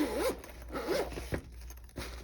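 A pencil case zipper is pulled open in several quick, close rasping strokes, each with a rising buzzy ripple, and a short pause between pulls.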